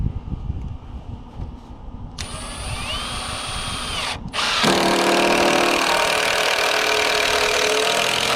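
A power drill driving screws on a job site where concrete is being poured with a mini excavator: a loud drill whine starts partway through and runs on, then a heavier, louder grinding burst takes over to the end, with no talking.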